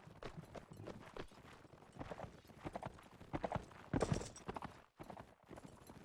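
Horse hooves clip-clopping during a video game battle between rebels and Balion forces, a steady stream of fairly faint hoof beats mixed with battle noise.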